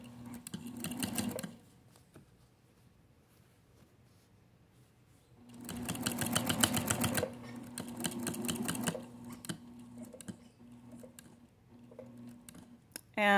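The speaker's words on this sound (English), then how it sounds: "Now I'm going to stitch right up to where I've pinned the marking of the 3/8 inch." A sewing machine stitches a bag's side panel in two bursts, a short run at the start and a longer run midway, its rapid needle hum loud and close with quiet pauses between.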